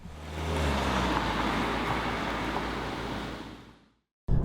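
A BMW X3 xDrive28d compact SUV on the road, with steady broadband road and engine rumble holding for about three and a half seconds before cutting out, then a brief loud burst at the close.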